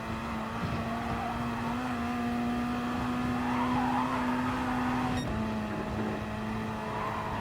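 A Gr.3 race car in Gran Turismo Sport holds a steady, droning engine note as it slides through a drift on the Nordschleife, the pitch shifting briefly near the end.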